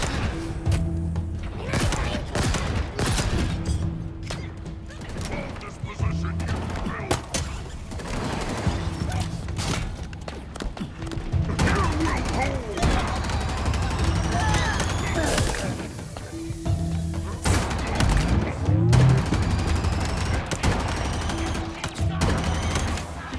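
Turret gunfire in the video game Halo Infinite comes in loud sustained bursts and rapid fusillades, with thuds and explosions mixed in during chaotic combat.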